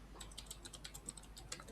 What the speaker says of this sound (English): so we can find out the storage class name by just typing that